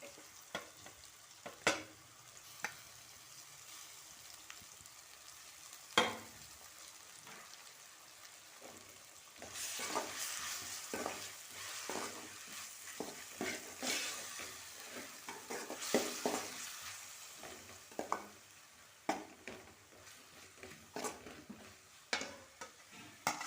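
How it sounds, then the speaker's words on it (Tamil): Ginger and garlic added to sautéed onions sizzle in a pan while being stirred for prawn biryani, a steady close frying hiss with frequent scraping stir strokes and louder bursts midway. "இப்போ இஞ்சி பூண்டை போடுறேன்"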